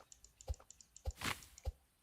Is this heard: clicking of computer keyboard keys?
yes